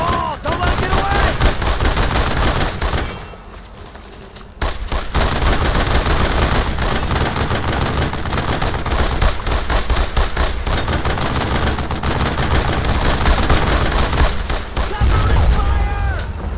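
Sustained gunfire from the World War II shooter Brothers in Arms: Road to Hill 30, with rapid machine-gun bursts and rifle shots filling the mix, a brief lull near the middle, and soldiers shouting orders over the battle.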